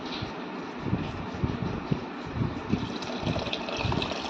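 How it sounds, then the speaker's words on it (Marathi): Water poured into a pot of moong dal khichdi as it cooks, a continuous splashing, gushing stream at moderate loudness for several seconds, with no voices. "तर इथे मी पाणी टाकून घेत आहे"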